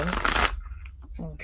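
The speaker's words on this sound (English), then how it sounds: "I love to get a good shuffle in every once in a while." A deck of reading cards is briskly shuffled for about half a second, a close riffling burst, followed by soft handling sounds and a short pause.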